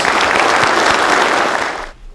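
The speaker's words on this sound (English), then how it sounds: "Can we please give him a round of applause?" Steady, dense applause from a crowd at a police awards ceremony, loud and close, holding for about two seconds before cutting off quickly.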